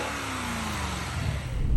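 A 2022 Lexus IS500 V8 engine revving, heard close with the hood up, a steady loud rumble that builds slightly toward the end.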